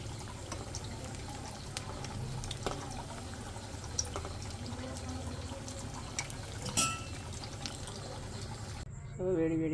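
Garelu lentil fritters fry in oil over a low gas flame, giving a soft, steady sizzle and bubbling with faint pops and an occasional clink of utensils.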